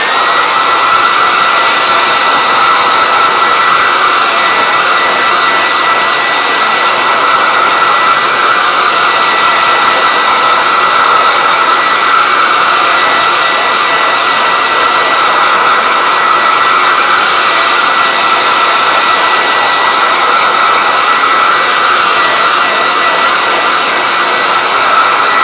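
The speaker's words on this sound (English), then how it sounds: "Turn your volume down for a second while I blow dry this." A hair dryer blows steadily to dry a sketchbook collage, giving a loud, close, unbroken whooshing hum that stays constant throughout.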